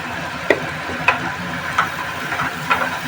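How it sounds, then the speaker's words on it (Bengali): Fried potatoes and spice paste stirred in a pan over a low flame, a soft steady sizzle broken by four sharp scrapes or clinks of the utensil against the pan. "আলু দিয়ে আমি একটু নাড়াচাড়া করছি"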